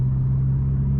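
A passing car accelerating hard at night, a loud, steady low engine rumble lasting about a second, close and without talk.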